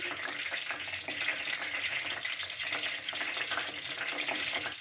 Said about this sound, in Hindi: हमने इसको कुकिंग ऑयल में डाल दिया और इसको हम हल्की आंच पर फ्राई कर लेंगे